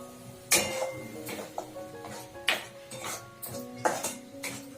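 Ground tomato, two tomatoes' worth, goes into a pan of pumpkin flower curry frying in a home kitchen, bringing a few near clanks of a utensil against the pan over a steady low sizzle, with no talk.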